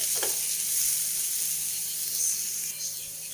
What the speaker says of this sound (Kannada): ಈರುಳ್ಳಿ ಉರಿಬೇಕಾದ್ರೇ ನಾನು ಅರಿಶಿನ ಪೌಡರ್ ಹಾಕ್ಕೋತೀನಿ